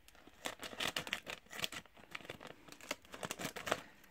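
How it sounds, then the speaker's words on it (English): Quick crisp snips and rustles of packaging being cut, a rapid irregular series of sharp clicks up close with no talking. "Let's get the scissors out."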